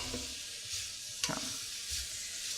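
Onions and shallots sizzling in oil in a pan, a soft hiss broken by a brief stirring scrape, with no voices.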